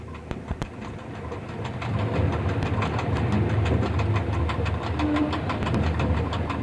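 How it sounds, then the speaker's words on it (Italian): A freight train loaded with automobiles passes on the adjacent track of the Udine–Tarvisio line, heard from a locomotive cab as a rising rumble with rhythmic wheel clatter over rail joints, close and continuous. "Sulla destra un treno incrociante carico di automobili."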